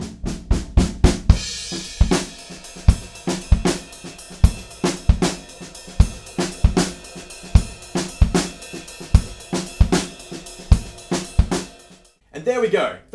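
Close, loud drum kit playing a verse beat, busy kick and snare strokes with soft ghost notes over a wash of cymbals, ending with a brief burst of talk.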